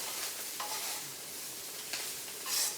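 Bok choy stems fry in a hot pan with a steady, quiet hiss and sizzle, and a few soft stirring scrapes and crackles rise through it.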